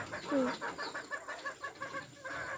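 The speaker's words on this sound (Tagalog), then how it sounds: "Nakatuwa yung manok ko. Ang dami." Several chickens cluck and chatter close by in short, overlapping bursts, with one louder squawk near the start.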